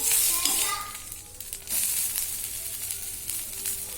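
Rava dosa (semolina batter) roasting on a hot pan over a medium flame, a steady bright sizzle with crackling bursts, close and continuous throughout, with no talk.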